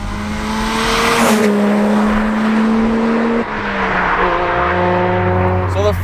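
The engine of a front-engine, rear-wheel-drive drift sedan hums steadily as the car drives, pitch shifting with gear changes and a brief rev, loud and close throughout.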